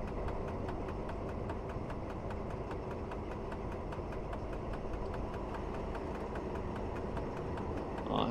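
A BB 6740 locomotive hauls a freight train in Train Simulator Classic, giving a steady droning engine hum with a faint regular rhythmic clicking throughout, continuous and unchanging.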